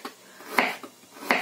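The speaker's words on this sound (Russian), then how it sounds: "Имбирь я просто нарежу дольками, вот просто так" Ginger being sliced into rounds on a kitchen board, with two sharp knife chops standing out clearly and a few softer taps between them, close and without talk.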